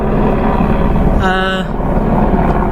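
A helicopter passes right overhead, its rotor and engine roar loud and steady through the whole short stretch, with a brief tonal whine rising in the middle.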